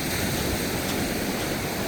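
Ocean surf washes in a steady, loud broadband roar at the beach where a sand flea rake is dragged through the water, with wind buffeting the microphone and no distinct breaks.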